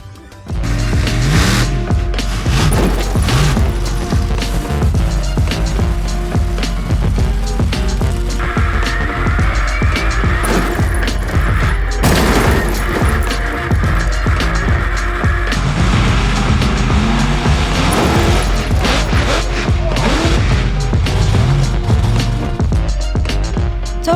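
Homemade monster truck built from lorry and digger parts crushing cars, a continuous loud rumbling engine roar with crunching metal bangs and clattering impacts over about twenty seconds outdoors.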